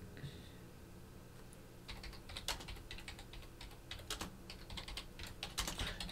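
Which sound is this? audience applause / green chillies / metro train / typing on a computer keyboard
typing on a computer keyboard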